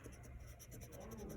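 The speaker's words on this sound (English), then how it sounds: "Now we can erase" Pencil lines being erased on paper while drawing a Santa hat, a steady soft scratchy rubbing that runs throughout, close and fairly quiet.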